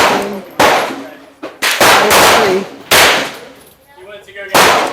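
Rapid gunfire from a stainless Smith & Wesson 4043 TSW pistol emptying its magazine: loud, close sharp cracks in quick bursts with ringing decay between shots, no talking.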